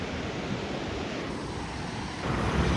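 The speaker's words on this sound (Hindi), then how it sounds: "पानी बहुत तगड़ा हो रहा है।" Swollen, strong floodwater rushes past in a dense, loud, continuous roar with a wind-like hiss, steady throughout and slightly louder at the end.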